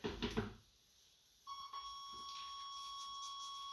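A steady electronic warning buzzer in an old Chevrolet Suburban, started after sitting 15 years, begins after a short burst of rumbling engine noise and drones on continuously at an even pitch.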